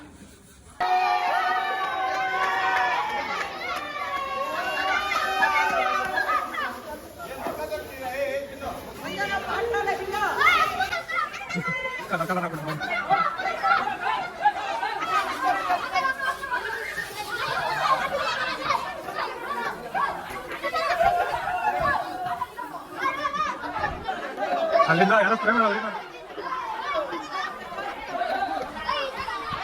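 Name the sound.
crowd chatter at Ganesha Chaturthi street festival in Hosur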